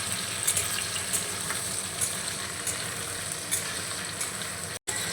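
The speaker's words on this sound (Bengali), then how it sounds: "গাজর বরবটির সঙ্গে ক্যাপসিকামটা প্রায় ভাজা হয়ে এসছে।" Capsicum, carrot and long beans stir-fry in a pan for homemade fried rice, giving a soft, steady sizzle with faint scraping stirs throughout, quiet and close, with no talk.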